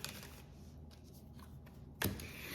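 Someone shuffles a flimsy, easy-bending deck of playing cards, a soft continuous papery riffle ending in a sharp snap of cards, heard close and quiet with no talking.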